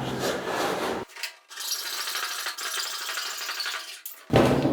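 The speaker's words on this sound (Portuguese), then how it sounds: "Só serrar todos eles. Demora um pouco mais, né? Com a serra manual, mas fica um corte mais preciso." A hand saw cuts wood for a wooden door with steady, close, rasping back-and-forth strokes, a short pause midway before the sawing resumes loudly.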